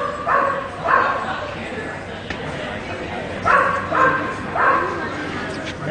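Dogs bark and yip at a distance in several short bursts, with a steady background murmur and people talking nearby at an animal adoption event.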